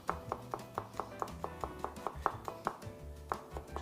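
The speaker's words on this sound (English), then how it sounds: "Just be real careful when chopping that garlic." Rapid, regular knife chops on garlic on a cutting board, about three per second, crisp and close with a short pause near the end.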